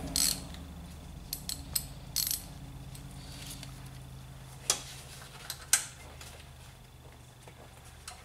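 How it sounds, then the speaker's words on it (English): Ratchet wrench loosening a 12mm timing belt tensioner bolt on a 1999-2004 petrol Volvo S40, giving scattered close metallic clicks and ticks in short bursts over a quiet workshop background, with no talking. "The first thing to do is take the tensioner off. That's going to be a 12mm."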